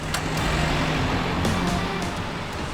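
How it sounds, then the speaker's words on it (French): Delivery trucks from a company logistics fleet driving by, a steady broadband road rumble with low engine drone throughout, moderately close, no talk. "Plus de 10 camions assurent les livraisons, même là où les autres ne vont pas."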